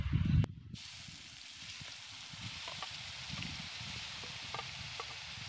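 Vegetables hit hot oil in a pan for momos with a brief thump, then sizzle in a soft, steady hiss that continues alone.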